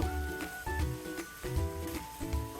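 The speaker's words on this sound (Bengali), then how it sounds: "আরো এক মিনিটের মতো আমি ভেজে নেব" Long beans, capsicum and cabbage fry in a pan for vegetable pulao with a close, crackling sizzle, interrupted by rhythmic stirring scrapes and a faint tonal hum underneath.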